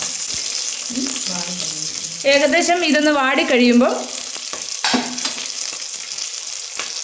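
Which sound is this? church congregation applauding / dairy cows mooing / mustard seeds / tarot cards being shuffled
mustard seeds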